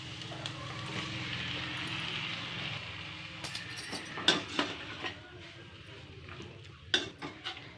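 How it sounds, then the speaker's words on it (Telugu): Goat tripe (boti) added to hot oil with coriander and mint, a soft steady sizzle at first, then a spoon stirring and scraping against the pan in several sharp clinks. "ఇప్పుడు బోటి వేసుకుంటున్నా."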